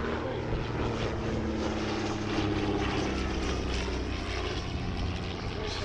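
A De Havilland Dragon Rapide, a vintage twin-engine propeller biplane, flies at the Shuttleworth airshow, its steady droning engine and propeller note filling the air continuously at moderate volume.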